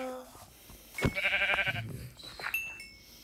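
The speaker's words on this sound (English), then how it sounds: "I have to kill a sheep" A sheep bleats in the video game Minecraft, sounding as a short, wavering bleat near the start, mixed with game sounds and speech.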